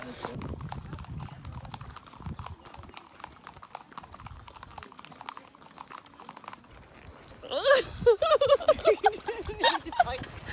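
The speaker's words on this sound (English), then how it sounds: "Horse riding through the fields" Horse hooves clip-clop in a steady walking rhythm on a ride through countryside fields in Cuba, with people talking over them and a brief neigh-like sound.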